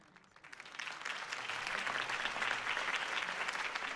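Crowd applause in a Batman video game, a broad wash of clapping that swells in within the first half second and then holds loud and steady to the end, with no voices over it.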